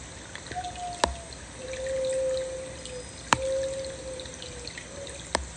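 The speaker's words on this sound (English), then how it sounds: "They come with the water stream in the Shishidoshi." Water trickles steadily through a shishi-odoshi bamboo fountain in a quiet ASMR setting, with a soft continuous flow broken by three sharp, clear knocks spaced a couple of seconds apart.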